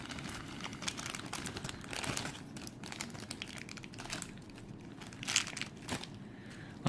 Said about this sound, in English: we'll take the plastic off of her